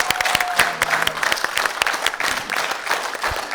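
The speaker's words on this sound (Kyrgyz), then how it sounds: "Кол чабуулар" An audience at a couples' competition show applauds steadily for several seconds, dense sharp claps filling the room with no pauses.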